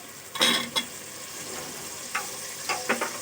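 Chopped vegetables for a vegetable biryani hit a hot pan with a soft sizzle, followed by a few sharp scraping stirs of a spoon against the metal, close and fairly quiet, with no talking.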